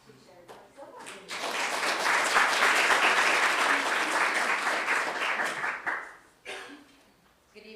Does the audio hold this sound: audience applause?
yes